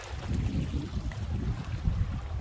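Breezy wind blowing outdoors on the Appalachian Trail, near a small farmstead property with a stream: a steady, loud, low rumbling gust buffeting the microphone for the whole stretch, with no talking.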